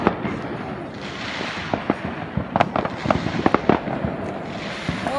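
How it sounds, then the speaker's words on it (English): Fireworks bursting during a 4th of July celebration outdoors, with many scattered pops and crackling bangs at varying distances over a steady rumbling background, some sharp reports standing out near and others far. "there's some more fireworks being lit off"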